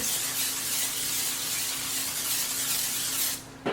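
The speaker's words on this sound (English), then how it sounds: "I'm going to go in with the extra virgin olive oil spray. I'm going to spray them really good." A spray can of extra virgin olive oil hisses in one continuous burst for a few seconds, close and steady, then cuts off with a small click.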